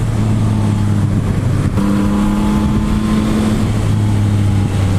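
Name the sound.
Yamaha MT-09 SP 2021 motorcycle engine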